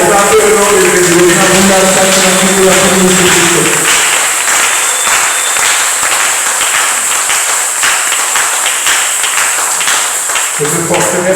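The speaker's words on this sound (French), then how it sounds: "Est-ce qu'on peut acclamer le nom de Jésus?" A church congregation claps and cheers in praise of Jesus at a revival gathering, dense continuous applause filling the room, with a musical backing fading out partway and returning near the end.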